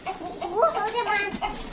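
Chickens cluck and squawk in a farmyard where a hostile rooster is attacking a younger bird, short agitated calls close by with a person talking over them.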